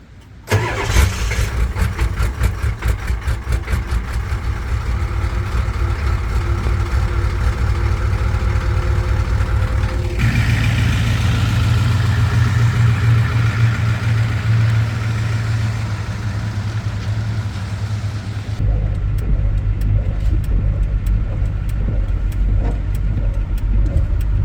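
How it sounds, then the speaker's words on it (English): Ford truck engine cold-starting on a rainy early morning: a cranking burst catches into a loud, high-revving roar up close, then eases down into a steady rumbling idle. "I'm not gonna leave you guys without a cold start"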